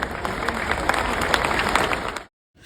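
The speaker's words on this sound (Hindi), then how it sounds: "एक बार जोरदार तालियां हो जाएं।" A festival audience at an Urdu literature and cultural gathering bursts into loud, sustained applause, thick and even, then it cuts off abruptly and a new swell of sound begins.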